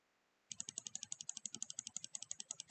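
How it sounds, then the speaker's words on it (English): Rapid, evenly spaced computer mouse clicks, about twenty in a steady run, close and fairly quiet after a short silent start. "Enjoy listening to this mouse clicking."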